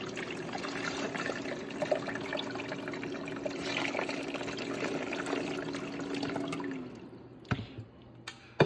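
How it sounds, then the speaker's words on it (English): Filtered water pours steadily into an ice maker for several seconds, then the stream stops, leaving a few drips and small clinks. "I'm going to use the filtered water from the refrigerator. And I'm just going to pour it in."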